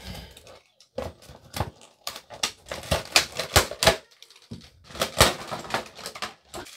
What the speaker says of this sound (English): We're going to take our new fill valve and we're going to open it up.